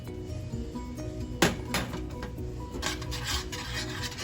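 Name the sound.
stirring flour into creamy spinach sauce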